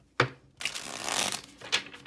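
Tarot cards are riffled in a close, crisp shuffle, a sharp snap followed by a long papery flutter and a final quick riffle.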